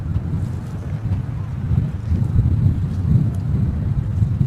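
A small boat crosses open water in Xuan Thuy National Park's mangrove wetlands, a low steady engine rumble blended with heavy wind buffeting and splashing water, constant and close with no talk.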